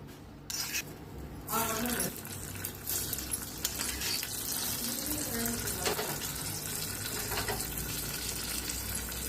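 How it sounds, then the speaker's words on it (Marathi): Hot tempering (phodni) is poured over curd rice mixed with curd and gives a sharp burst of crackling sizzle. The sizzle settles into a steady frying hiss with faint clinks, close and moderately loud. "आता ओतायच्या ह्याच्यावर फोडणी।"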